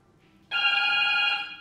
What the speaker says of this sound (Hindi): अबे रिंगटोन है कितनी गंदी है इसकी